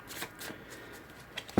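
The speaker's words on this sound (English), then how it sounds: "So I'm going to shuffle now and draw your first cards." Tarot cards are shuffled by hand in quiet, close-up riffles and soft slides, ending in a couple of sharper taps as the deck is squared.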